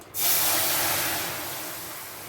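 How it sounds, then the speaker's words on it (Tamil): A sudden loud hiss bursts in and settles into a steady, broad sizzle that fades slightly, as chicken stock comes to a boil and bubbles. "நல்லா சிக்கன் ஸ்டாக் வந்து நல்லா கொதிக்கட்டும்"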